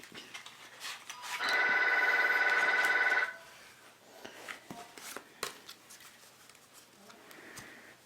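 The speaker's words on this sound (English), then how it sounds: "And there's the phone." A telephone bell rings in one loud, steady trilling burst lasting about two seconds, followed by soft rustling and handling noises in a quiet room.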